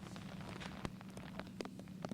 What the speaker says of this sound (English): it's raining a little harder than it looks here